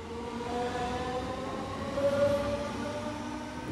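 Train at a railway station, heard as a steady rumbling roar with faint tonal whines and a brief squeal, continuous and fairly loud with no speech.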